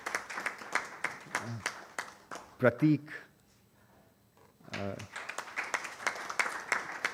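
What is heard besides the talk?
audience round of applause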